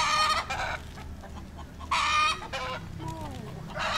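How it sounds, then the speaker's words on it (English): Roosters and hens at a rooster farm in rural northern Thailand, with loud bursts of clucking and crowing close by, broken by short pauses and softer calls under them. "A rooster farm. It's a rooster farm. So many of them."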